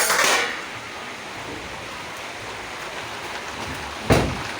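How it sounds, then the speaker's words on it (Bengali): Steady rain falling outdoors during a spell of days of persistent wet weather, a continuous soft hiss with a brief louder patter near the start and a short clatter near the end. "বৃষ্টিও পড়তেছে"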